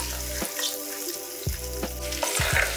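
Cumin and mustard seeds sauté in hot oil, a short, close sizzle with a few crackling bursts over a low steady hum.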